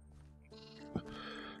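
A sheep bleats once, a moderately loud wavering call over a steady background hum, in the Minecraft mod TerraFirmaCraft.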